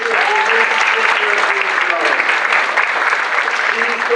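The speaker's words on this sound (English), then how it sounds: "Another big round of applause for Norca Blackman Richards, who makes" An audience at a college academic event breaks into sustained, dense applause filling the room, with a voice speaking over the clapping.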